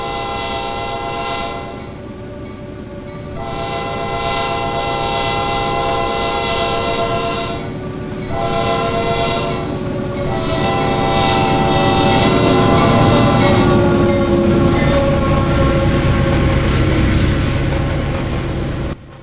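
A Norfolk Southern freight train in a video game, hauling new tractors, rumbles past continuously while its horn blares in several long blasts with short gaps, loud and close, the wheels grinding steadily underneath.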